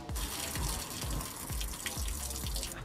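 Tap water running during washing up in a kitchen sink, a loud close splashing flow with rhythmic knocks of dishes or hands moving under the stream.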